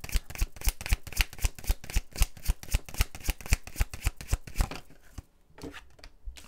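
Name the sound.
shuffling tarot cards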